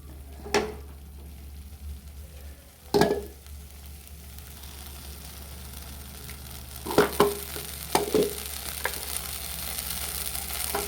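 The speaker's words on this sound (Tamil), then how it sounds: "இப்போ மசாலா எல்லாத்தையுமே நல்லா பச்சை வாசம் போகிற அளவுக்கு வதக்கிட்டோம்." Masala for Mangalore ghee prawn roast sautéing in a pan, a steady soft sizzle with occasional sharp stirring scrapes, a cluster of them near the end, close and moderate, no talk.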